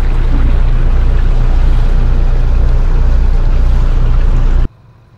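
A boat engine runs loud and steady while a large boat is taken under tow, with a deep, continuous rumble that stops abruptly near the end, leaving only faint background.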